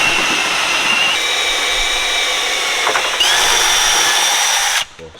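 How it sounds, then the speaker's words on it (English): A power drill bores through the body panel of a Nissan R34 Skyline, a loud steady whine that shifts pitch partway through, then cuts off abruptly near the end. "We're gonna drill those out right now"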